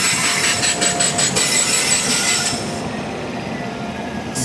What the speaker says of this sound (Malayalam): എറണാകുളം ടു ഹസ്രത്ത് നിസാമുദ്ദീൻ 12617 ആണ് ഈ കയറി വരുന്നത്.